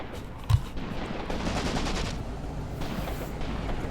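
Soldiers' gunfire in the tank battle game Graviteam Tactics: Mius-Front, a sharp close shot followed by a steady wash of distant rattling rifle and machine-gun fire with no voices.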